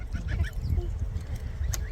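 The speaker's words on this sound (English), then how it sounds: "we have some ducks. Duckies on the farm." Farm ducks quacking and honking nearby while grazing on grass, short scattered calls over a low rumbling background.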